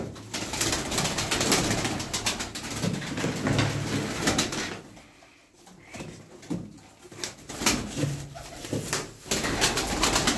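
Sütbeyaz game pigeons coo in a dense, crowded loft, with soft rolling calls and occasional wing flutters filling the space continuously and close up.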